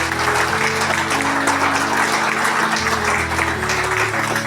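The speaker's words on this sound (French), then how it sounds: "Veuillez applaudir Serge." An audience applauds Serge at a book signing ceremony, with sustained, even clapping from a room full of people and a low background tone running beneath it.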